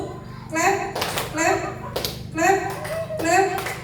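Children clap in a steady boom-clap rhythm game in a classroom, sharp hand claps landing on the beat about once a second alongside their chanting voices.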